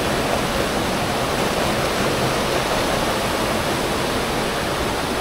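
A waterfall in a jungle river area, heard as a loud, unbroken broadband roar of rushing water with no talking.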